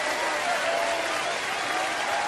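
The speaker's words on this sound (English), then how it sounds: "A huge round of applause, ladies and gentlemen." Audience at a concert applauding and cheering as a performer is called to the stage, a dense, loud, continuous roar of clapping filling the room.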